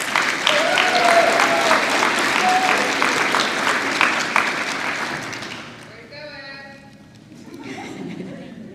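An audience applauds at a high school honor day, with steady clapping that fades after about six seconds and gives way to a voice speaking.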